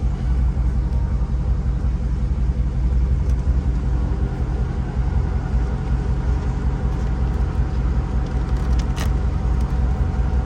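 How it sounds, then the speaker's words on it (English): A Dodge Charger Scat Pack SRT 392 idles at night in Miami with the air conditioning running, giving a steady, close, low rumble and blower hiss from inside the car. "I ended up turning on the car because it's hot as hell, and I just put the AC on."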